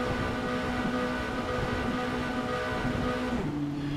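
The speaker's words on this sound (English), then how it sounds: "I can hear the engine start to harmonize." Race car engines at the start of a Formula race in iRacing on the Detroit Belle Isle circuit, a loud, sustained droning engine tone that holds steady and then drops in pitch near the end, with no talking.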